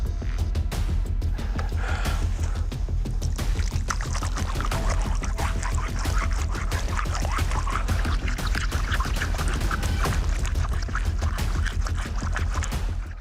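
Water poured steadily over a stone inscription in a forest, a continuous loud splashing and trickling wash that runs without pause throughout.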